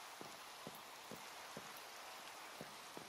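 Steady rain hisses in Minecraft's Crafting Dead modpack, running with a shader, broken by faint periodic drips or ticks, with no one talking.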